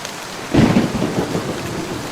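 Thunder rumbles and rain falls in a cartoon rain-day scene, a loud crack rising about halfway through and settling into a steady rolling roar with rain beneath.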